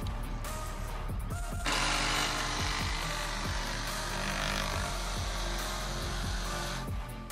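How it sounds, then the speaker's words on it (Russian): A DeWalt cordless jigsaw runs through a cut, producing a loud, steady, buzzing motor whine that starts after a short pause and holds for about six seconds, close up, with no talking. "Теперь DeWalt. Тоже, как у Макиты, интуитивно видно, куда мы будем пилить."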